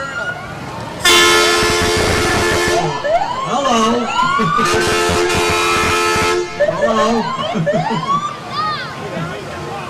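Windsor volunteer fire truck and ambulance rolling past in a small-town parade, blasting loud sustained sirens and air horn honks in long bursts, with a nearby voice talking over the din.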